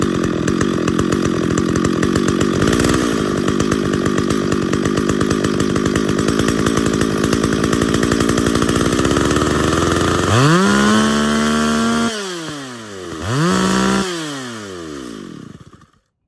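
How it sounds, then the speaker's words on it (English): A chainsaw engine roars steadily at wide open throttle, then drops off and falls back toward idle, with a brief throttle blip before trailing away. Loud and close, no talk. "Gave it a few blips of the throttle, it warmed up, and went to wide open throttle a couple of times just to hear the tune."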